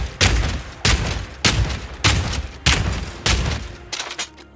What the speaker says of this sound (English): Everything from the reload of your crossbow